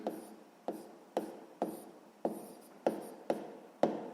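Pen strokes scratching across paper while a math solution for a sixth-grade exercise is written out, about eight short, evenly spaced scrapes, close and fairly quiet with nothing else heard.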